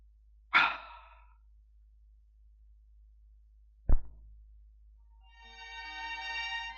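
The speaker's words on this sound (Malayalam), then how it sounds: "വായു വലിക്കുന്ന പോലെ തോന്നുന്നേ" An elderly man takes a single sharp, labored gasping breath in sudden breathing distress, close and clear in a quiet room, followed later by a dull thump and a sustained rising tone.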